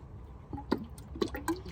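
Coolant trickles and drips into a car's cooling system after a vacuum test, a few soft, wet plinks and gurgles over a low, steady engine-bay hum, brief and fairly quiet.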